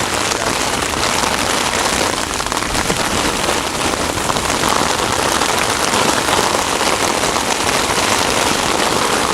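Heavy spring downpour pours steadily and loudly onto surfaces nearby, a dense unbroken hiss of rain with no voices.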